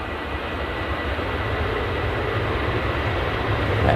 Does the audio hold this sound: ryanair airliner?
yes